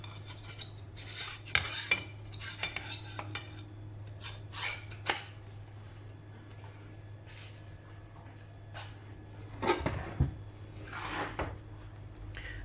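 Metal rasping and clinking as the barrel of a Diana Outlaw air rifle is refitted, with scattered scrapes and clicks over a steady low hum, a couple of sharper knocks near the end.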